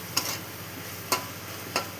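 A spoon stirs ridge gourd curry with chickpeas and coconut in a pan, making three short, evenly spaced scraping strokes over a steady low sizzle.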